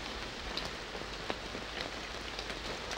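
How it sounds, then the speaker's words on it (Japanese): Rain falling in the PS2 game Kaeru Batake DE Tsukamaete: a steady, soft hiss of rainfall with a few faint drop ticks, continuous and even, with no voices. "雨が降ってきちゃった"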